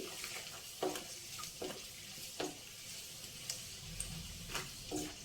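Onion frying in a pan for a cucumber and toor dal curry: continuous soft sizzle with regular scraping strokes of a spatula, several evenly spaced stirs, close and fairly quiet.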